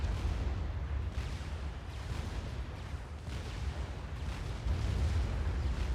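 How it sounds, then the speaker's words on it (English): Rapid-fire anti-aircraft cannons, the Cougars in the Supreme Commander strategy game, pound away in a dense, continuous rumble of overlapping booms and bursts that rises near the end. "we've got Cougars as well, the rapid fire anti-aircraft cannons"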